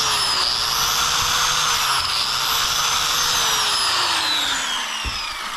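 Small handheld grinder smoothing the bead of a tractor tire, a steady high whine wavering in pitch as it works the rubber, loud and close, easing off at the end.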